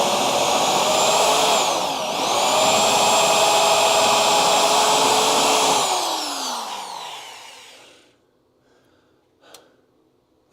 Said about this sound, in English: Ah, that spot weld popped.